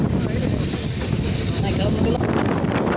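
A train rumbles along the rails at close range near a tunnel on the Dudhsagar route in Goa, with a constant low roar, rhythmic wheel noise and a thin metallic squeal above it.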